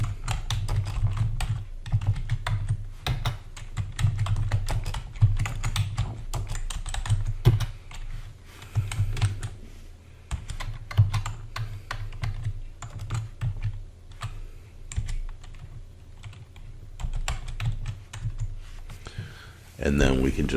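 Rapid typing on a computer keyboard, bursts of clattering keystrokes with short pauses, close and clear throughout.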